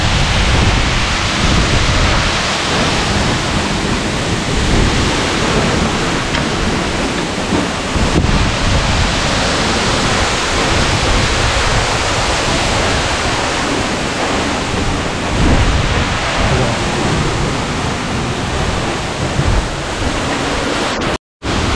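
A waterfall roars as a steady, dense rush of falling water in a misty spot, loud and close throughout, with no break until a brief cutoff at the very end. Wind buffets the sound at times, and nobody talks.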